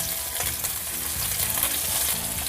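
Hot oil sizzles and splatters loudly as small fish fry in a pan, a dense continuous crackle with popping bursts, heard close up with no talking.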